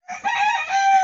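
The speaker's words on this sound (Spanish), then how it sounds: "Aquí podemos ver nuestra gallina clueca." A broody hen, white with black speckles, gives one sustained, strongly voiced call lasting about a second, close by and alone without talk.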